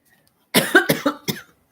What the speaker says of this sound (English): I may have a cough this morning for being out in that air last night.